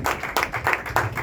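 A church congregation at a prayer vigil claps in a quick, even rhythm of about five loud hand claps, close and sharp, without talk over them.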